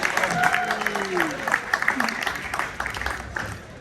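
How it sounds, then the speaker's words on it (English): Audience applause at a Palestine-themed cultural event, clapping at moderate volume with voices and talk mixed in over the crowd, fading toward the end. "Can we give them a big round of applause as well?"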